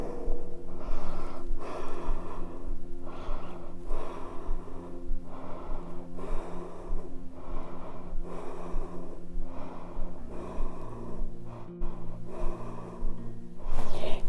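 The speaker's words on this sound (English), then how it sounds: "Breathing here." Rhythmic, audible breaths during a yoga forward fold, repeated inhales and exhales over steady background music, close and moderately loud.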